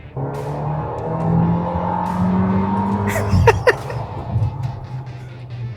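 A Fiat Pulse Abarth engine drops a gear while driving, a steady cabin hum and drone that swells briefly with a quick rev blip and tire noise around the downshift.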